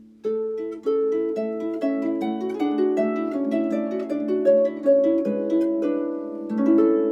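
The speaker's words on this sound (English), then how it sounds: "It can play a melody and an accompaniment at the same time." A harp plays the Twinkle Twinkle Little Star melody over a lower accompaniment, notes overlapping and ringing in a gentle, steady rhythm, close and clear.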